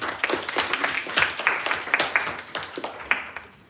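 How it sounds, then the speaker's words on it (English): Clapping from a small crowd greets presenters at a hackathon demo event, with a brisk, uneven patter of hands at moderate loudness and a few scattered individual claps standing out, lasting several seconds. "Let's get a warm round of applause for Dimitri, Jeremy, Matt, Dan, Adam, Gary, Lewis,"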